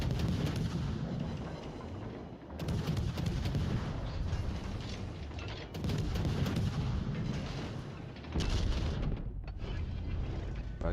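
Naval guns firing aboard the French cruiser Colbert in World of Warships Legends, heavy booming salvos with mechanical clanks rolling in repeated waves across the battle.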